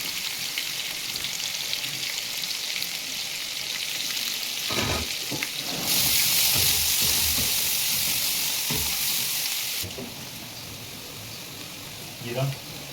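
Chopped onion goes into hot oil with browned garlic for a hotel-style chicken masala, giving a steady bright sizzle that swells louder for a few seconds, with occasional stirring clatter and a voice speaking over it.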